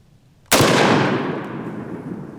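A single loud rifle shot cracks close by, fired over a chronograph with no optic on the gun. It hits abruptly after a quiet moment, then a long echoing rumble fades away.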